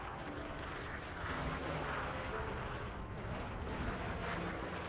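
Frag cannon volleys from a ship in Elite Dangerous roar as dense, continuous booming fire, loud and sustained throughout with a couple of sharper surges, and no voices on top.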